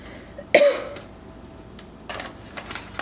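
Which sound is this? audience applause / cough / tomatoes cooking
cough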